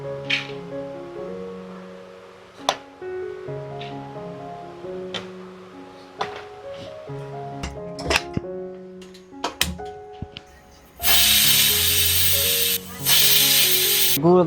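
A pressure cooker with soaked lentils for puran poli gives off a loud, steady hiss of escaping steam from about eleven seconds on, briefly dipping once. Before that, a voice talks over quieter kitchen sounds.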